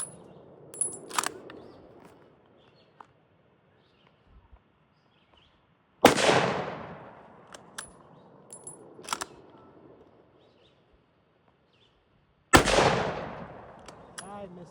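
Two loud, sharp rifle reports from a model 1899 Krag fired at an outdoor range, spaced several seconds apart, each with a rolling echo tail, plus faint clicks and handling noise between shots.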